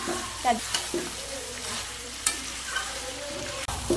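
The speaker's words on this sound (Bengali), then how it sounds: "দেখুন গ্লেমেটেটা আমার কষানো হয়ে গেছে ভালো করে" Goat offal (gila mete) being sautéed in a pan, a steady close sizzle of frying broken by a few scraping stirs and light knocks of the spatula, with no talk.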